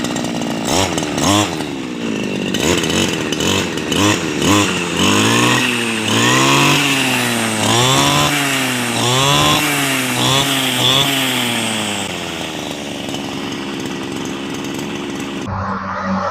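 A grass trimmer's two-stroke engine with a faulty reed valve runs loud and close, its buzzing pitch rising and falling unevenly as the throttle surges, then cuts to a lower, rougher idle near the end.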